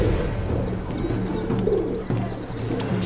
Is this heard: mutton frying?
no